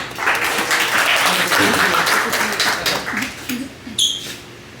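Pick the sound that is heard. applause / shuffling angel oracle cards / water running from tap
applause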